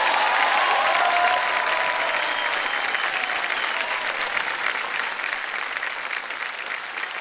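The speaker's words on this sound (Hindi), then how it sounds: "जोरदार तालियां बज जाए इनके लिए" Loud, sustained studio audience applause on a televised quiz show, a dense wash of clapping with some crowd noise that holds steady and eases slightly over several seconds, no speech over it.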